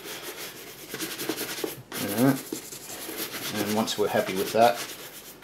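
Dust and grime are rubbed and brushed off the welt of an R.M. Williams ADF parade boot, giving steady close scrubbing strokes while someone speaks briefly over them.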